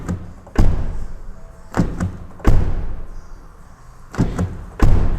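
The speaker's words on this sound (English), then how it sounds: "Now the sound of the door is quite interesting" Doors of a Hongqi E-HS7 electric SUV are shut repeatedly, producing five solid, heavy thuds spaced about a second apart, each with a short low ring afterward, heard close up without talk.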